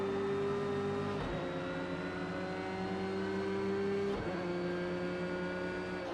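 Mercedes race car engines in Project Cars 2 drone loudly and steadily, with pitch climbing through the gears and two sharp shift breaks interrupting the whine.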